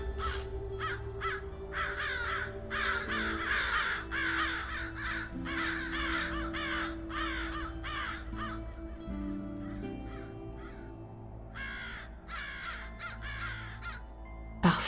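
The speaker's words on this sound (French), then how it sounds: "Parfois, des corbeaux se racontent de drôles d'histoires." Crows caw repeatedly in bursts of harsh calls, several birds trading calls back and forth at moderate distance over a steady low background hum.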